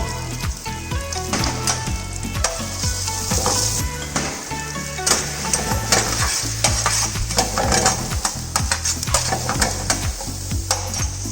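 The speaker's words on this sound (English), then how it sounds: "take little bit of oil and add sliced onion into it and go on sauteing till onions become brown" Sliced onions sauté in a little oil in a pan, a steady close sizzle with repeated rhythmic scraping and stirring strokes throughout.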